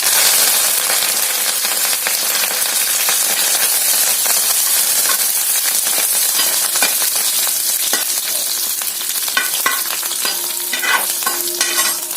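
Garlic, curry leaves and dried red chillies sizzle loudly in hot frying oil, a dense continuous crackle and hiss close up, with scraping stirring strokes and occasional sharper pops near the end, no talking.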